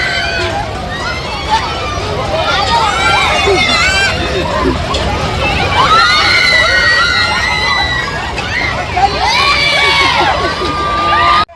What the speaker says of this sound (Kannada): ಇವರೆಲ್ಲ ಭಯಕ್ಕೆ ಕೂಗಾಡ್ತಿದ್ದಾರಾ ಅಥವಾ ಖುಷಿ ಕೂಗಾಡ್ತಿದ್ದಾರಾ ಅಂತಲೇ ಗೊತ್ತಾಗ್ತಿಲ್ಲ